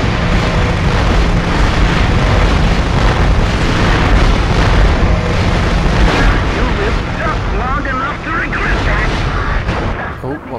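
Mortar explosions in the video game Future Cop LAPD, a dense, continuous barrage of booms and blasts layered with game noise, loud throughout with someone talking over it.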